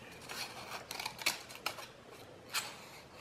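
Scissors snip down the middle of a glued paper strip in a paper trick, a series of crisp, close cuts in quick bursts with a louder snip near the end, heard alone without speech.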